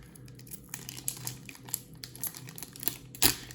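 A Force of Will trading card booster pack torn open by hand: close, quiet crinkling foil with a run of small rips and rustles, ending in one sharper tear, no talking.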